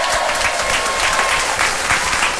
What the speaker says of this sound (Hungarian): Egy óriási tapsot.